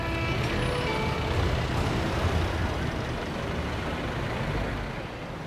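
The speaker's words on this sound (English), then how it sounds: "the street is packed full of traffic, noise, horns" Dense street traffic in Binondo, Manila's old Chinatown, with trucks and buses rumbling close by in a steady, loud wash of engine noise that barely lets up for the whole stretch.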